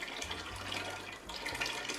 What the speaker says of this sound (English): So basically it's just pouring unfiltered water.